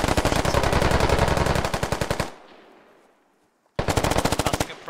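Loud automatic gunfire in the tactical shooter Squad: a long rapid burst of close shots, a brief fading gap, then another fast burst, with no talking.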